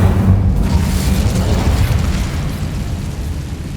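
An Incendio fire spell from the video game In The Shadow of Time bursts in a loud, deep boom that rolls into a sustained roaring rumble and slowly fades.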